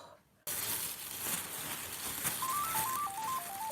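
A phone rings indoors, a short melodic ringtone of stepping notes heard under a loud crinkling, rustling noise, moderately close.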